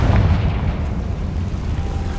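A Confringo spell explosion in a wizarding action game opens with a loud, deep boom that rolls off into a fading rumble, heard close with no talk.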